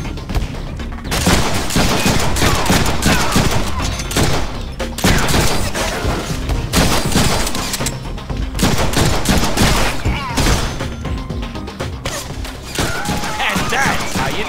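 Gunfire from the Deadpool video game, continuous dense shooting bursts with thuds and crashes layered over a game soundtrack, loud throughout with some voice in the mix.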